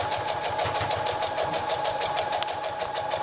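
A sewing machine runs at a steady, fast pace, stitching around the edge of thick, multi-layered 100% cotton fabric, with even mechanical thumps repeating several times a second and a constant whirring hum.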